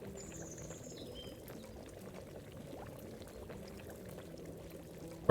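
A barkeep pouring drinks in the video game Tavern Manager Simulator, with a faint, steady liquid pour and soft trickle in a quiet room, ending in a brief louder burst.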